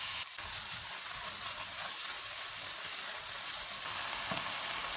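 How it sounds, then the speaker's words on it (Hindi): Beef mince with ginger-garlic paste frying in oil over medium heat for keema samosa filling, giving a steady, close, dense sizzle throughout with no talking. "इनको 4 से 5 मिनट तक भूनेंगे।"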